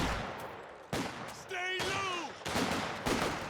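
Company of Heroes 2 gameplay with bursts of gunfire, including a machine gun, in sharp clustered volleys, along with a brief game voice announcement mid-clip and busy battle noise underneath.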